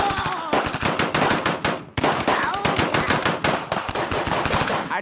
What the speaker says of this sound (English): we were exchanging gunfire.